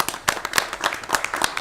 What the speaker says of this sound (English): So they do deserve a round of applause